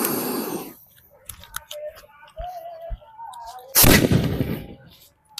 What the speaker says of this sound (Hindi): देख लो भाई टॉप टाइगर में आग लगाते हैं